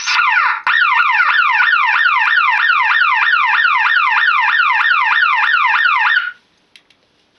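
A QD Alarms vented alarm bell box wails loudly and continuously in a rapid rising-and-falling electronic sweep for about six seconds, then cuts off, leaving near silence with a couple of faint clicks.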